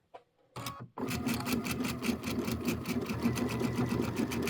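A sewing machine stitches fabric with a steady fast mechanical whir and rhythmic needle clatter, starting after a brief pause and running alone and close for several seconds.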